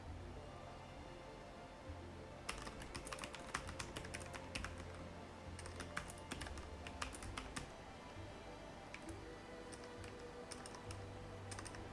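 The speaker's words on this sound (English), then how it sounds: "I'm typing to you, Mrs. Rye, because of the ads." Computer keyboard typing, played over a PC survival game, with bursts of quick clicking keystrokes in an irregular rhythm. The keys sound close, over a steady low background hum with no talking.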